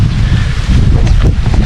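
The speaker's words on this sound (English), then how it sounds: "that wind is an absolute joy" A brief, loud rush of wind blows across the microphone outdoors on a Thai banana plot, a steady roar with no speech.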